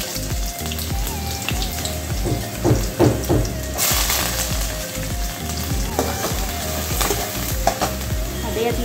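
Onion and mustard seeds hit hot oil and sizzle loudly and steadily nearby, with crackling pops scattered through the frying.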